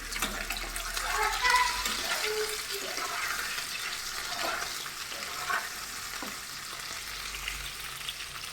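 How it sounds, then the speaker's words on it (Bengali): Potatoes fry in a pan with a soft, continuous sizzle and light stirring scrapes, fairly quiet and close, with brief clinks of a utensil now and then. "এখন আলুগুলো ভেজে নেবো"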